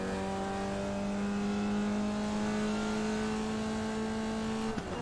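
A Formula Vee race car in the iRacing sim holds a steady, strained drone with a flat, bogged-down tone for several seconds, then dips sharply near the end as if shifting, loud and continuous with no voices.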